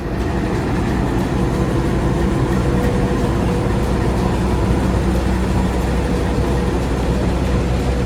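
A CC206 diesel locomotive hauling the Papandayan train in Garut, Indonesia rumbles steadily at close range, its deep engine drone holding constant with a faint higher tone running through it.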